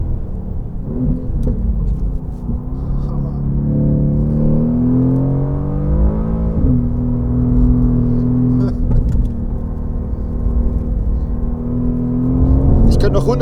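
A Mercedes-AMG GT R driven fast on a wet race track, its engine a steady loud in-car roar rising and shifting in pitch through the gears, with someone talking over it.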